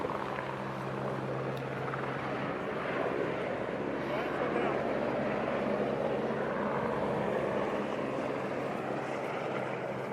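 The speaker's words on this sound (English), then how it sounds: "Customs helicopter." A customs helicopter flying at the US–Mexico border in Arizona, heard as a steady, loud engine and rotor drone with low humming tones that persist throughout, with a voice speaking faintly beneath.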